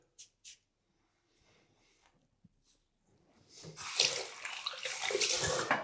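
A tap runs to rinse away shaving lather after a wet shave, a soft hiss of water that swells in and grows louder over the last couple of seconds, following a few quiet clicks and handling noises.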